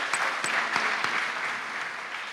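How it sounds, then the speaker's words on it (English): A church congregation clapping during a Sunday service, a few sharp early claps swelling into a brief, dense round of applause that gradually thins out. "So, there I expect a clap"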